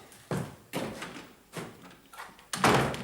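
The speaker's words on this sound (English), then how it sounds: "Right, door shut." A door is pushed shut indoors during a tense exchange, giving several dull thumps and knocking impacts in quick succession, the last one the loudest, with a quiet room around them.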